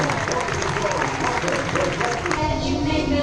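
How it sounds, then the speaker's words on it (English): A crowd applauds at the start of a mermaid show, steady dense clapping that carries through with voices faintly mixed underneath. "Let's set them off with a big round of applause"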